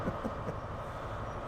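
A train arriving at a station in a train simulator on a Glasgow–Edinburgh run, heard as a brief, steady, low rolling rumble with faint wheel noise and no talking.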